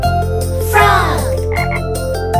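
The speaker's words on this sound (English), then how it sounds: "Frog!" Frog croaking from an animal toy in a children's song, with a bright, sweeping croak set over a steady musical backing and a repeating beat.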